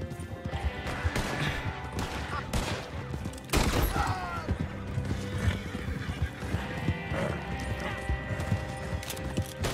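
An Arabian horse in the online game Red Dead Online whinnies loudly over a steady patter of clip-clopping hooves, while sharp bursts of gunfire and a crash break in around the middle.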